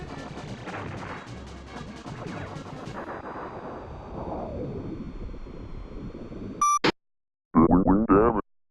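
Star Fox on the SNES: ship blasts at the Rock Crusher boss in Sector X, rapid shots and crashing explosions under game music, then a brief beep, silence, and a short burst of electronic effects.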